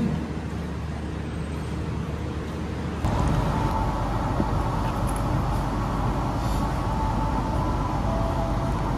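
The KA Bogowonto stainless steel economy train pulls out of Jatibarang station, a dense steady rumble of rolling rail cars that jumps louder about a third of the way through and then holds constant and close.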